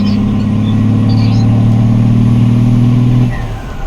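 A car engine revving hard in a loud, steady, droning roar that holds for several seconds before easing off near the end.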